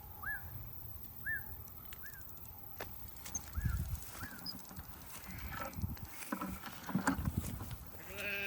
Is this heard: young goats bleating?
yes